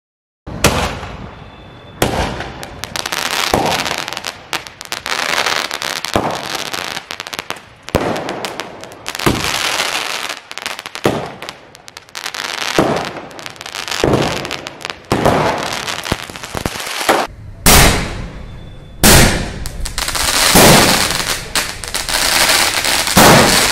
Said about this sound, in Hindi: पॉप आई इसमें लगभग बारह शेल्स हैं टोटल तो इसको चला के दिखाते हैं आपको